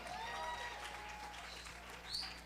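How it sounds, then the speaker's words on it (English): Audience applause at a live evening show, a steady wash of clapping from a crowd that holds for a couple of seconds, fairly faint and distant, with a brief whistle-like tone near the end. "Dwight, let's give him a nice round of applause, everybody."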